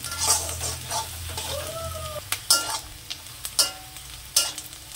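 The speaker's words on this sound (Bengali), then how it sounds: "আমি হালকা করে ভেজে নিয়েছি পেঁয়াজ আর লঙ্কাটা।" Chopped onion and green chili fry lightly in a pan for home-style egg chow mein, with a soft steady sizzle broken by several sharp stirring scrapes and clacks near the end.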